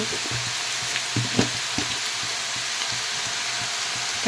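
Chili powder and salt stirred into food frying in a pan, a steady soft sizzle with faint scraping stir strokes, close and moderately quiet, no voices.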